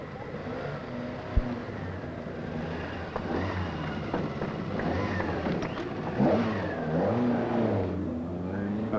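A Ford Escort rally car pulls away from the start ramp at the 1973 RAC Rally, its engine revving up through rising, rasping gears amid wind and crowd-scene noise.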